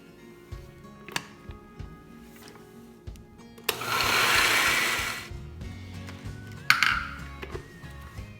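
A blender whirs for about a second and a half, blending coconut chutney with lemon juice, amid scattered kitchen clinks and knocks of dishes before and after.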